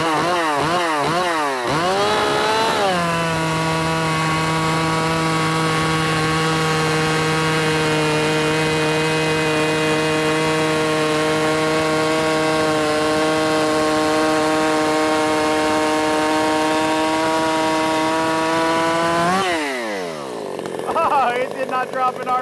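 A ported Jonsered 625 II chainsaw revs up through a few throttle blips, then holds a loud, steady high-RPM scream for most of the run before dropping back and sputtering toward idle.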